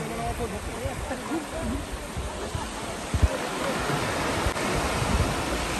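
Incoming tide waves washing onto Bakkhali sea beach, a steady broad wash of surf with occasional louder breaks, close and continuous, with faint voices in the background.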